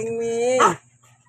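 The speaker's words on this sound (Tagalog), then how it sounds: "Hindi na mapakali yung dalawang aso." Two restless dogs barking close by, a single loud harmonic bark-whine rising and breaking off, followed by quiet.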